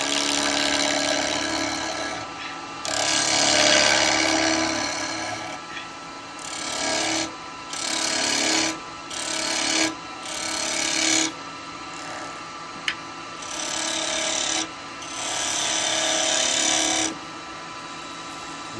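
A wet eucalyptus bowl being hollowed on a wood lathe, the gouge giving rough, rasping cutting bursts that start and stop in irregular passes over the spinning motor's hum.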